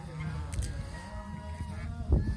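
A few nasal honking calls from female domestic geese kept on a farm, close by and overlapping over a couple of seconds.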